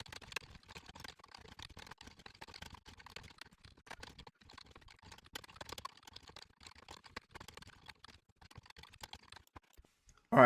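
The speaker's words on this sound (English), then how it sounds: "let's see a generic in action by typing the following" Rapid keystrokes on a computer keyboard while entering Rust code, with light irregular clicks and taps close by and fairly quiet, continuing for about ten seconds before a sudden louder sound at the very end.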